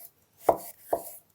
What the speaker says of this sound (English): And now I can just cut them all together at the same time.